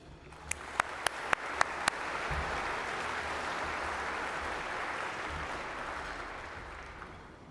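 An audience at the Melbourne Mining Club applauds to welcome a speaker, a few sharp claps at first swelling into a full, sustained round of clapping that slowly tapers off, with no speech over it.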